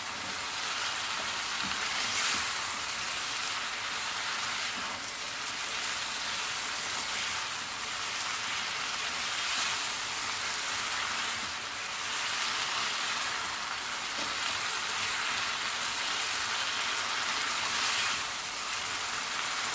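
Onion-tomato masala fries in oil over normal heat, a continuous soft crackling hiss like light rain that holds steady throughout, close and with no talk.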